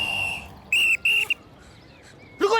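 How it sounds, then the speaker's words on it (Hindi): A police whistle blown in repeated short, shrill blasts, several in quick succession with a final blast after a pause, fairly close and loud. "पिछले सिग्नल से सीटी पे सीटी बजा रहा हूँ"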